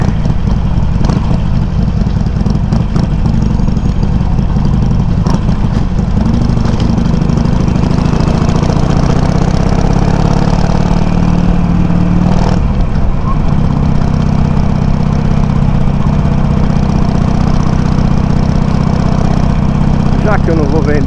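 A Harley-Davidson 883 motorcycle idles steadily with its exhaust miked up close, a loud, continuous low rumble held throughout, with someone speaking over it.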